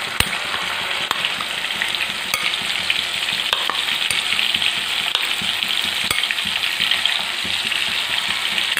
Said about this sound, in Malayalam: ഇത് ചില്ലി ഗോപി ആവുന്നവരെ അത്രയും മൂക്കണ്ട, ജസ്റ്റ് ഒന്ന് ഫ്രൈ ചെയ്തെടുത്താൽ മതി.